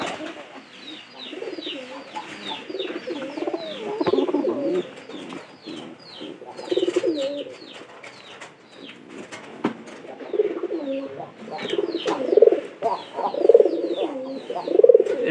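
Pigeons coo in their coop, repeated soft low throaty calls from several birds overlapping at close range, with a faint voice and scattered rustling beneath.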